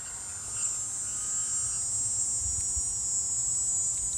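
A BKLES BK-2000 electric portable water filter pump running beside a stream, emitting a steady high-pitched whine that holds constant throughout, with faint low gurgles and outdoor ambience beneath.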